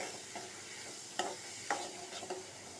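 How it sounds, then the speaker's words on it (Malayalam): Onions, shallots, green chilli and curry leaves stirred in coconut oil in a pan, giving a soft, quiet sizzle with a few sharp scrapes of the spoon spaced through the clip. "നമുക്കിത് നന്നായിട്ടൊന്ന് ഇളക്കി വഴറ്റിയെടുക്കാം"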